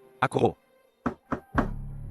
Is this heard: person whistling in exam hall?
no